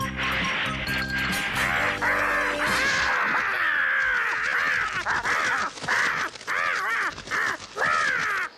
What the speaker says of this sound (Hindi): शुक्र है कि वो कौवा अपनी जान बचाकर भाग गया